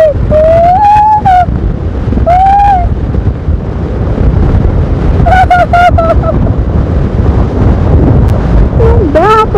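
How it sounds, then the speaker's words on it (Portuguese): Strong wind buffets the microphone on an open gravel road ride with no banks for shelter, a loud continuous low roar throughout, with a voice crying out in rising shouts over it. "Então aí já pega o vento cheio."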